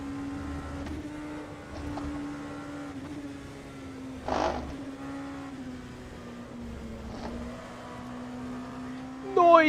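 Steady racing engine drone throughout in rFactor 2 at Silverstone, with an LMP2 or GTE car whooshing past midway and another revving up at the end; a voice talks now and then over it.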